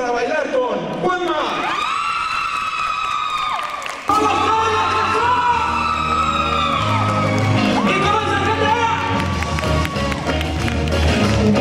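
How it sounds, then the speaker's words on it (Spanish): A lively concert crowd at Plaza Loreto cheers, whoops and claps loudly, the excited shouting swelling and continuing without pause. "El aplauso fuerte"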